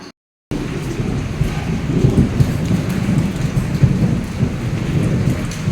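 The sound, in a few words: rain and thunder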